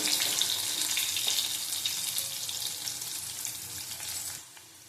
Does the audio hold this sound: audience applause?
no